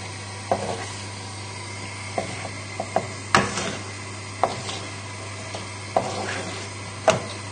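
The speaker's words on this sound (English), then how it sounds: "I'm just going to give the pasta a little stir." Pappardelle pasta stirred in a pot, with scattered soft scrapes and taps of a utensil against the pot over a steady low hum and faint bubbling.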